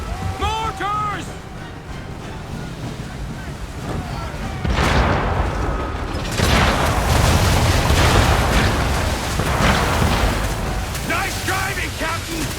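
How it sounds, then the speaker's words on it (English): Mortar shells exploding in Assassin's Creed III, deep booming blasts landing one after another across a chaotic battlefield, with voices shouting over the rumbling impacts. "Don't avoid the mortars, sir!"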